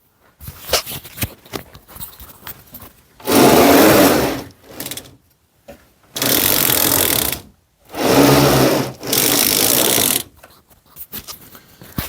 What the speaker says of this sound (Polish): Coś mi jeden wózek trykocze.